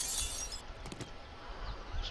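In 7 Days To Die, glass shatters faintly with a short burst of breaking and tinkling shards, quiet against a low background hum.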